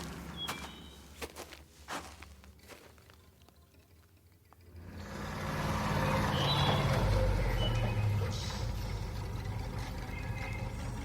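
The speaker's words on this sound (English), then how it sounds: "There's the truck." A truck arriving in a radio drama set at a wartime battalion, a low engine rumble swelling in after quieter shuffling and footsteps, then holding steady and fairly loud with a few beeps and hisses.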